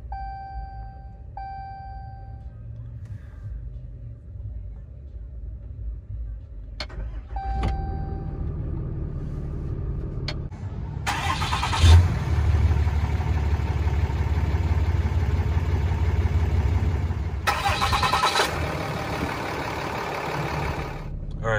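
A 2015 Ram 6.7-litre Cummins diesel engine cranks and starts after a few faint beeps and clicks, then settles into a steady, loud, rumbling idle close by, with a brief rise in revs partway through.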